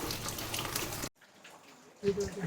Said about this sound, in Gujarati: કેવો વરસાદ આવી રહ્યો છે તમે જોઈ શકો છો.